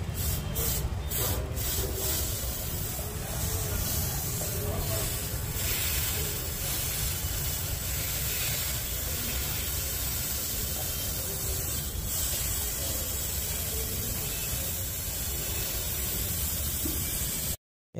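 Chain lubricant spray hissing onto a motorcycle chain, a steady broad hiss that is loud and close and runs almost without a break for the whole stretch, with faint rubbing in the background and no talk.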